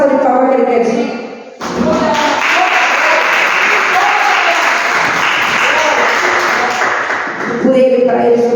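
A church congregation gives a round of applause during a morning service, a broad steady wash of clapping lasting several seconds, with a voice speaking just before and after.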